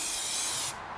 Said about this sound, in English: We're gonna spray off some of that excess.